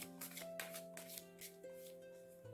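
Tarot cards are shuffled and handled, giving a soft, close riffling and flicking under steady background music, with no talking.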